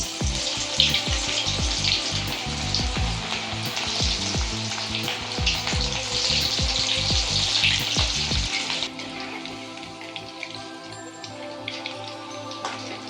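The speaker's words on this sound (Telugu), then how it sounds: "ఇలా ఆయిల్ వేడైన తర్వాత ఒక్కొక్క పీస్ వేసుకుంటూ మంచిగా విడివిడిగా ఇలా కలుపుకుంటూ వేసుకోవాలి." Battered gobi manchurian pakoda pieces crackle and sizzle as they fry in hot oil, with dense bubbling punctuated by stirring clinks, easing to a gentler hiss near the end.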